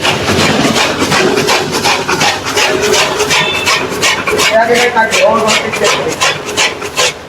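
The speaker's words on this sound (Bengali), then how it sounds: "আর কাস্টমারকে এখন এই মেশিনটি মানে কাটিং করে দেখানো হবে।" An S2 model grass and straw cutter machine chops fodder with a continuous rasping, rhythmic shearing clatter, loud and close, running steadily throughout with voices talking faintly in the background.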